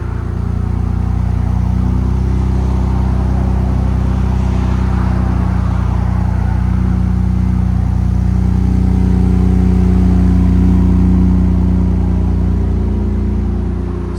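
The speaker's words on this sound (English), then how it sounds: "Magnaflow SPEQ catback exhaust with an X pipe. Go ahead. You still got your idle. It's a little bit deeper." A 2025 RAM 3.0L twin-turbo inline-six idles through a Magnaflow SPEQ cat-back exhaust with an X-pipe, giving a steady, deep, low rumble that holds close and constant throughout, with no talk over it.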